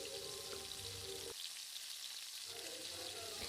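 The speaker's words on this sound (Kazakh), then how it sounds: "Енді сәбіз бен картопты салып, жақсылап араластырып қуырамыз" Carrots and potatoes frying with onions in a pan for buckwheat pilaf, a close crackling sizzle with stirring scrapes that briefly drops out before the frying noise returns, no talking.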